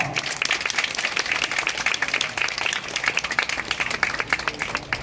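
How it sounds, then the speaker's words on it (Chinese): Dense, steady applause from an audience fills the hall for graduating fine arts students at the opening of their graduation exhibition, sustained and fairly loud throughout. "相信给我们应届的毕业生一个掌声好不好"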